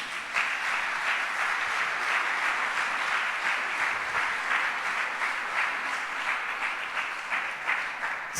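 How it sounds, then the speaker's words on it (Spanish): A church congregation applauds together in a sustained, even wash of clapping that fills the room for several seconds, steady and moderately loud with no talking over it. "Quiero que le demos un aplauso a Dios por ellos."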